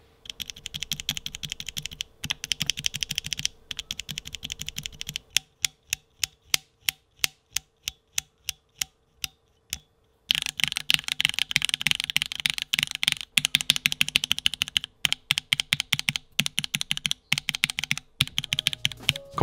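Stock Tealios V2 mechanical keyboard switches being typed on, producing sharp, high-pitched clacks with slight spring ping, in fast continuous bursts alternating with slower, evenly spaced single keystrokes, close and clear with no talking.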